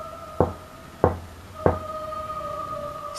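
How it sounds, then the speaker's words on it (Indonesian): Three firm, evenly spaced knocks strike the front door of a house at night, each a dull thud with a short ring, over a faint steady hum. "terdengar suara ketukan di depan"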